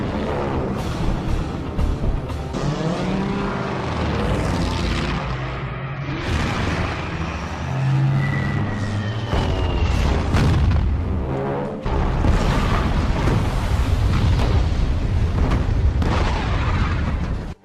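Warplanes attack Pearl Harbor in documentary footage: dense, continuous booming explosions and rumbling blasts with roaring aircraft noise, loud throughout and swelling further near the end.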